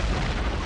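A methane explosion at the base of a New York skyscraper: a sustained, loud, dense roar of broadband rumble with heavy low end, steady throughout and with no voices.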